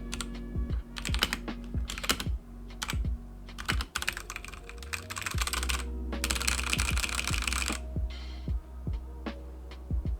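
Steady, fast typing on a Royal Kludge RK71 wireless Bluetooth mechanical keyboard, a close, continuous run of crisp clacks with a brief flurry of quicker keystrokes near the end.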